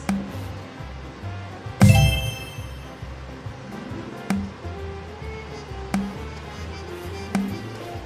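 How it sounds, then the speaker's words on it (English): A bell is struck several times, first with a loud clang near two seconds, then with lighter dings that ring out at intervals over a low background hum. "Kirsty, I'm gonna ring the bell when we get the rose"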